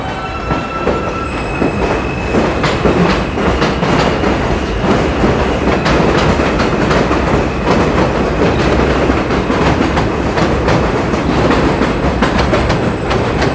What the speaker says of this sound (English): Clackety clack of the subway.